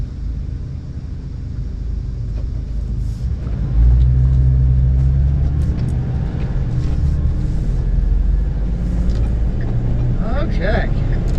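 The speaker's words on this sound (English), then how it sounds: "Guess I better wait for all these cars, huh?" Road traffic passing by while waiting at a roadside: a heavy, low engine rumble grows louder partway through and holds steady as vehicles go past, close and continuous, with lighter whooshing higher up near the end.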